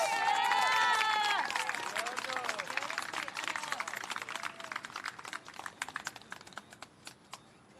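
An audience at a graduation ceremony claps in a dense burst of applause that gradually thins and fades, with a voice briefly audible at the start.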